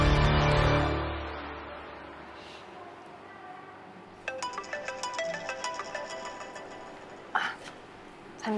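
A telephone ringtone plays late at night indoors as a rhythmic series of bright, repeating electronic chimes at moderate level, starting after a fading sound and with no talk over it.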